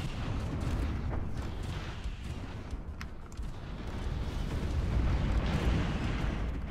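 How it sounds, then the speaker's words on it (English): In a Stellaris space battle, torpedoes fire and explode as a dense, continuous rumble of booms and bursts, fairly quiet overall, with the roar swelling toward the end. "Torpedoes away."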